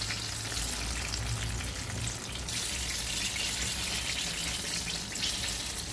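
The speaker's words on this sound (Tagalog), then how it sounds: "Oh, ingat mga matalsik ang nanggagalit nating mantika." Pork belly frying in spattering hot oil gives a dense, continuous crackling sizzle, loud and close, running without pause throughout.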